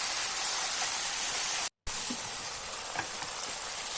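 Peppers, tomatoes and onion fry in a pan, giving a steady close hiss of sizzling with faint stirring clicks; the sizzle cuts out for a brief moment, then carries on alone.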